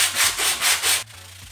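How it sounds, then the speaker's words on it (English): 80 grit sandpaper rubbed on a homemade fishing lure in four quick, even back-and-forth strokes, loud and close, then it stops abruptly. "this is that 80 grit sandpaper that I mentioned early in the video"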